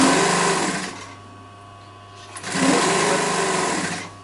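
Sewing machine stitching piping onto a chair cushion panel: a loud, close, steady whirring hum in two bursts separated by a short quieter pause, with no talk.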